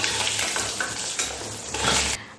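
Eggs fry in a pan with a close, bubbling sizzle, broken by stirring and scraping sounds and a few louder surges before it cuts off abruptly at the end.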